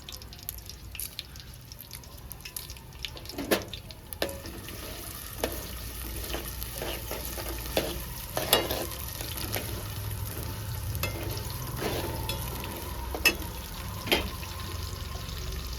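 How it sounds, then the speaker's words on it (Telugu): Dried red chillies tempering in hot oil for a brinjal potato curry, a soft steady sizzle with scattered sharp pops and crackles and occasional stirring clinks. "తాలింపు మంచిగా ఫ్రై చేసుకుందాం."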